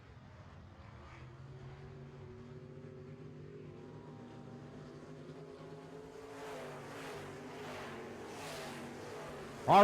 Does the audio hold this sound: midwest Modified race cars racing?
yes